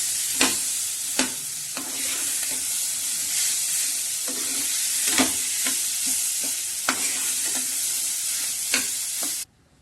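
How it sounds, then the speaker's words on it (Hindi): Hand-mashed medium potatoes stirred into a frying pan mixture: steady close sizzle under a series of scraping spoon strokes and soft knocks against the pan, with no voices, ending abruptly near the close. "इनको भी इसमें डाल के और अच्छे से मिक्स कर लेते हैं"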